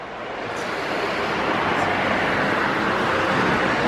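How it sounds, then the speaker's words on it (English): Loud, rough surf roars steadily, a broad rushing wash of breaking waves mixed with gusting wind on the microphone. "You see all these waves?"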